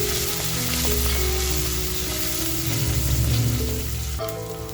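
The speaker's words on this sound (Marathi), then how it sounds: "कांद्याबरोबर थोडीशी चरबी आहे ते छान असं फ्राय करून घेते." Chopped onion and a little mutton fat fry in a pan with a steady, loud, close sizzle and occasional stirring, heard alone without talk.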